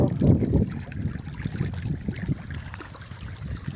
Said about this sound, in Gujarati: ચકલી ચાલુ છે